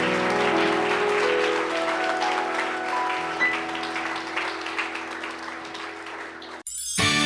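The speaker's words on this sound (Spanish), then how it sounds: "Le das un aplauso al Señor porque Él es bueno." Applause from a church congregation at a Spanish-language worship service, steady and dense for most of the clip over a sustained musical backdrop, then cutting off abruptly near the end.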